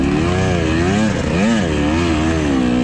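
A KTM 300 dirt bike engine revs hard throughout a hare scramble race, its loud, wavering pitch rising and falling as the rider holds the revs up with little clutch and the rear tire spins through a corner.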